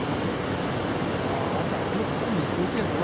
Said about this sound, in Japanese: また津波が来ました。